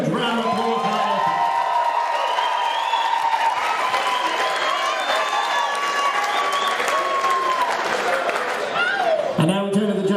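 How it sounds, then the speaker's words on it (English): A boxing crowd applauds two fighters after their bout, with sustained, loud clapping, cheers and whoops filling the hall for the whole stretch, mixed with a few raised voices. "I think these two warriors deserve a huge round of applause"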